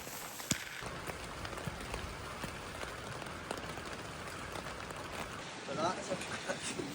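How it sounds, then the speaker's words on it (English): Steady rain patters on the outside of a tent during a wild camp in Glencoe's Hidden Valley in Scotland. It makes a soft, dense hiss throughout with scattered sharper drops, heard close and unbroken by talk. "listening to the sound of the rain on the outside of the tent"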